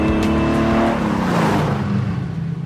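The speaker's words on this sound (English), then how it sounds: "I'm driving a 1950s Formula One car." A 1950s Vanwall Formula One car, road-legal, with its engine revving loud and close, harmonic tones rising and falling continuously with no talking.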